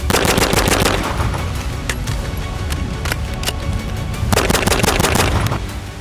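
Rapid bursts of fire from a KUNA 9mm roller-delayed pistol-caliber carbine, loud and close, with dense overlapping reports that pause briefly mid-clip before another sustained burst.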